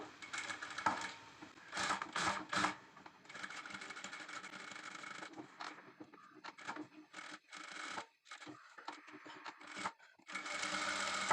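A sewing machine stitches along the edge of a boat neck blouse, running in close, rapid bursts of mechanical whirring with short stops and restarts as the fabric is turned.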